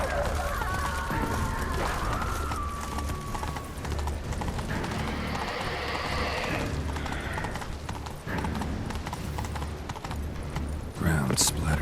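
Hoofbeats of a horse galloping in The Witcher 3 video game, a steady clip-clop rhythm running throughout under a dense game soundscape with music and effects, with a brief whinny-like sound and a voice speaking at points.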